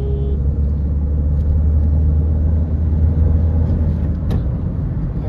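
Mahindra XUV500 SUV being driven, its engine pumped up in a low, steady rumble heard from inside the cabin, with a brief click near the end and no talk.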